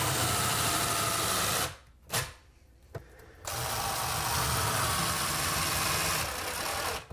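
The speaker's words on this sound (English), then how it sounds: "let's drive in a couple of screws to make sure it stays perfect" A power driver runs screws into the face of a linear shower drain panel during installation, giving a loud, steady whirring drone that breaks off briefly and then resumes for several seconds.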